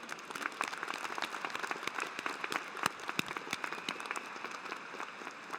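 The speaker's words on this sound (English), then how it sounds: "another round of applause, if you would, for our doctoral graduates tonight." Graduation ceremony audience applauding doctoral graduates at an RMIT University ceremony in Melbourne: dense, sustained crowd clapping with many overlapping sharp claps at a steady level, heard from a distance in a large hall.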